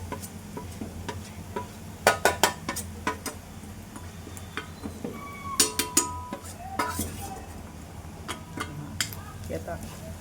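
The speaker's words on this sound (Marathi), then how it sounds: "खोबरंसुद्धा व्यवस्थित तुपावर भाजून घ्यायचं आहे आपल्याला" Grated coconut roasts in ghee for garlic laddu as a spoon stirs it, giving irregular clicks and scrapes against the pan, some sharp and close, over a low background hum.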